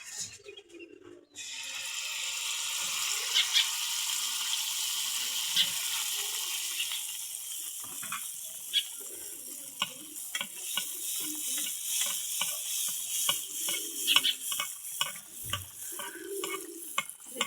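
Pitha rice cake drops into hot oil in a wok and fries with a loud, continuous sizzle, crackling and spitting over steady bubbling with occasional sharp pops and clinks, close by and without talk.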